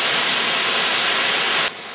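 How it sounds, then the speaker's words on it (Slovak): Waterfall inside Javorinka cave roaring as a steady, loud, broadband rush close by, cutting abruptly to quieter noise near the end. "Hukot vodopádu prehlušil slová radosti, ale verte, že boli."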